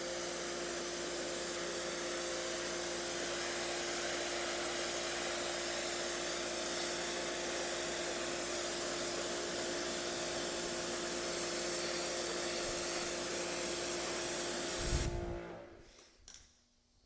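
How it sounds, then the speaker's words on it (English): A steady, broadband hiss of water spray rinsing rubber floor mats, continuous and close for about fifteen seconds before cutting off abruptly, followed by a brief thump and near silence. "All right, let's rinse that off."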